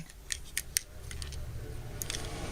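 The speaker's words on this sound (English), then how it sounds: "Take this, fold it down, take this, fold it up, and compress it in." Plastic parts of a Transformers Power of the Primes leader class Rodimus Unicronus toy being folded and clicked into place, a few sharp close snaps and clicks over quiet room tone.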